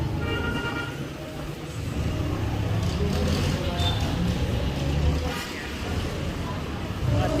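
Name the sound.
car horns honking and jeepneys on busy road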